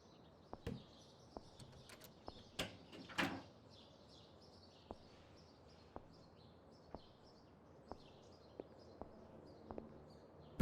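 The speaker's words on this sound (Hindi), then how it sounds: "बंद कर दो दरवाजा।" An interior door is pushed shut in a drama scene, giving a sharp close-range thud with a few lighter clicks and knocks around it while birds chirp faintly outside.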